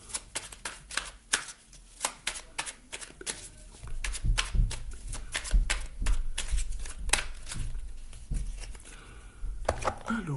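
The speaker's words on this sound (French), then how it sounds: "On va prendre une carte de la numérologie pour avoir un petit détail en plus." Numerology oracle cards shuffled by hand, a rapid run of crisp riffling flicks and slaps repeating for several seconds, close and fairly loud, with a faint murmur of voice behind.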